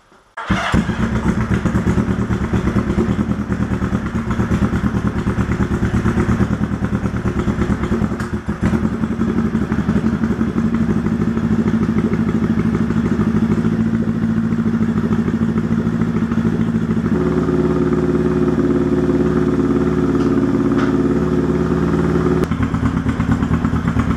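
A Honda CB350 motorcycle engine fires on its first start-up after a build, then runs at a loud, steady idle with rough, throbbing exhaust pulses and mechanical clatter, close and continuous, the tone shifting slightly later on.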